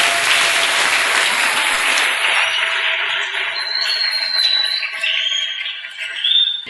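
A church congregation at a French-language service bursts into loud, dense applause that fades after a few seconds, leaving scattered claps and faint whistles or cheers.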